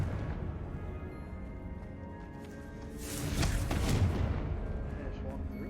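A Confringo spell goes off in a video game as a booming, rumbling blast that swells and then rolls away, rising over a steady background of game ambience.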